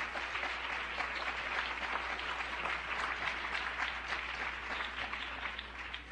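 Audience applause at a televised debate on Puerto Rico's political status, a steady wash of many hands clapping at moderate distance for about six seconds, with no talking over it.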